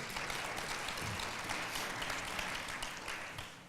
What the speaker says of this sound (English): please, big round of applause for our panel, ladies and gentlemen.